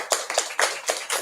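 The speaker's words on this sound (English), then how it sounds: "So can y'all give them a small round of applause?" A handful of separate, close hand claps in an uneven rhythm, five or so distinct smacks within a second, from an audience at a women's business event.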